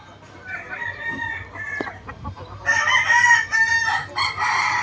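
Gamefowl hens of a yellow-legged hatch cluck softly at first, then a loud, close rooster crow breaks out and carries on over more clucking.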